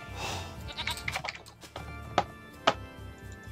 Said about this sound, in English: Oh, nice. More sheep.